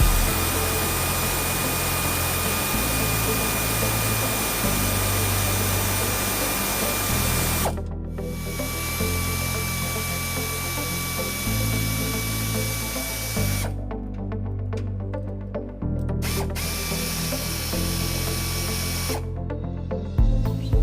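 Power tool loosening a trailer hitch bolt on a 2007 Toyota Tacoma, a steady loud whirring drone with a low rumble, changing pitch in a few stages and briefly cutting out, with no talking.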